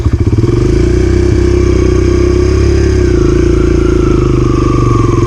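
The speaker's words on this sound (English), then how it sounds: "when you're in first gear, you want to slowly let go of the clutch, but also give gas." A dirt bike engine pulls away in first gear as the clutch is slowly released under throttle, a loud, close, steady mid-pitched drone with rattly clatter, rising slightly in pitch toward the end.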